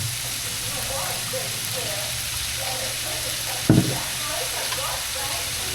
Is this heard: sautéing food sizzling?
yes